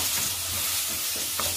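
Chopped tomato goes into a frying masala for a green peas and cabbage sabji, giving a steady close sizzle with light stirring scrapes and no voices.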